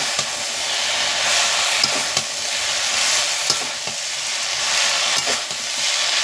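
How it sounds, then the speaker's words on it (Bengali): Chopped bottle gourd leaves fry in a hot pan with a steady, close sizzle, broken by a few sharp scraping clicks as a spatula stirs them. "একটু চাপা দিয়ে ভালো করে ভেজে নেব"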